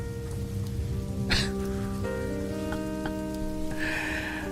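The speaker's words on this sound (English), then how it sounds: "Driving in the Rain with Eddie Pepitone." Steady rain falling on a car while driving at night in Los Angeles, constant patter with a few sharper drops and a low background hum.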